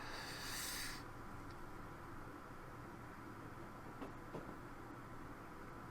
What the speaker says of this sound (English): Driving the train like this.